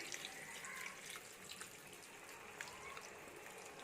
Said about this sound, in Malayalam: നമുക്ക് ഇതിനകത്തേക്ക് ഇനി ഇത് വേകാൻ ആവശ്യമായിട്ടുള്ള വെള്ളം ഒഴിച്ചു കൊടുക്കാം